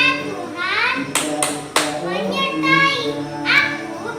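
Children clap the 'tepuk pahlawan' clap, a few sharp hand claps punctuating a child's sung chant close by.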